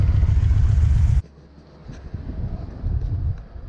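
A Yamaha Vmax motorcycle engine warming up after a leaking radiator repair. It roars loud and close for about a second, then cuts to a low, uneven rumble with wind buffeting.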